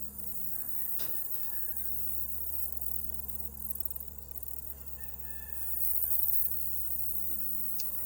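Honeybees in an open hive during a fall inspection in Harnett County, North Carolina, making a soft, continuous hum with faint buzzing from individual bees passing close by. A few light clicks and handling sounds come through, with no talking.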